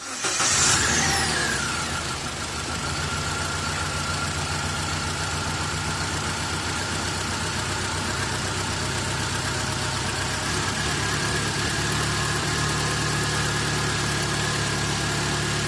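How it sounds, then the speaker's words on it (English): A car engine with a suspected blown head gasket idles steadily close by for a long stretch, a low even drone that begins with a brief louder surge, with no clear misfire standing out. "so it was misfiring a little bit and it cleared up"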